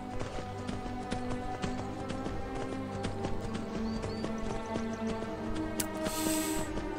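A horse gallops steadily in Skyrim, with hooves clip-clopping in a continuous rhythm under a bed of game music and ambience, and a short neigh or whinny near the end.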